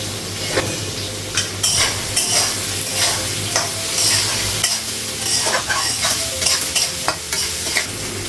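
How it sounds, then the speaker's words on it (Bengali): Onions fry with a steady sizzle in a pan while a spatula scrapes and stirs in a regular rhythm, close and clear. "পেঁয়াজটা একটু ভাজা হয়ে গেছে"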